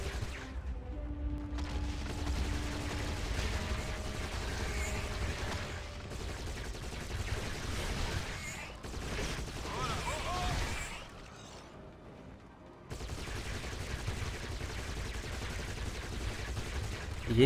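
Machine gun fire in Giants: Citizen Kabuto near enemy barracks: sustained rapid bursts of gunfire with booming impacts, dense and loud throughout, briefly thinning before resuming, with a voice talking over it.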